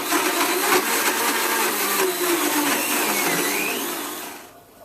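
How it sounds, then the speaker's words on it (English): A blender runs steadily on high, whirring through strawberries and chocolate ice cream for a smoothie, loud and continuous before winding down abruptly at the end. "Now blend this for about 30 seconds on high"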